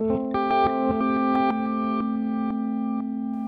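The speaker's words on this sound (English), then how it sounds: "We can hear more of this sort of backwards reverse playing now." An electric guitar plays through a Line 6 Helix glitch delay, with a sustained distorted note and repeating, reversed-sounding echoes that pulse steadily and trail off, loud and close.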